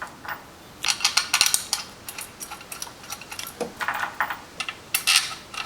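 Screws are started by hand into an Ulmer clutch kit cover, giving quiet, irregular metallic ticks and light clicks close by.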